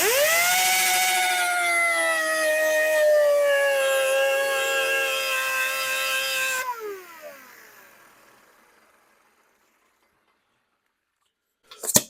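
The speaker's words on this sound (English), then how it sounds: "I'm going to do a cheat and just put my grinder in here and turn it down this way" Handheld grinder turning down a taper on the end of a metal pin, a loud rising whine with bright harmonic tones that holds steady, then winds down and fades to silence before a brief clunk at the end.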